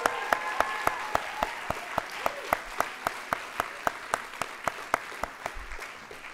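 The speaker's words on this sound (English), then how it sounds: "Round of applause, please." Steady audience applause from a keynote crowd at a university impact week event, with evenly spaced sharp claps repeating about four times a second for several seconds, fairly close and loud with no talk over it.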